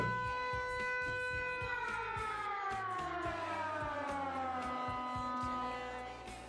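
Finnish civil defense siren on a test, a loud steady multi-tone wail that slowly falls in pitch and fades near the end, alone without talk.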